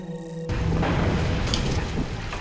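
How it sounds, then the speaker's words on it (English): Grenade explosions in Halo: Reach land as a loud, deep boom after a brief quiet start, followed by a rumbling, crackling blast tail lasting the rest of the moment. "Just chucking grenades."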